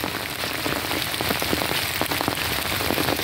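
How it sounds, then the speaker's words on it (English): Steady rain pours down on a hard surface, a dense continuous patter with no voices, loud and unbroken. "if it wasn't raining like this or whatever"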